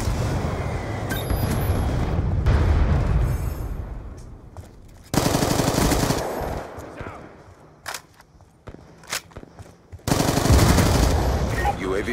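Sustained automatic gunfire and heavy booming blasts from a video game Hellstorm missile strike, loud and dense with bursts that drop off and surge back in sharp waves, broken by a few isolated cracks.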